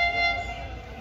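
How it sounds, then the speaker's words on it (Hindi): Millat Express 17 Up, hauled by HGMU-30R locomotive HGV 38217 from Karachi shed, arriving at Bahawalpur railway station, with a steady rumbling train and faint horn-like tonal ringing, moderately loud and fading slightly. "17 अप मिलत एक्सप्रेस आ रही है"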